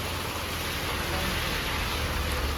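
Heavy Konkan rain keeps up a thick, constant wash of noise that sounds like it is growing stronger. The downpour runs unbroken at close range and no one speaks over it.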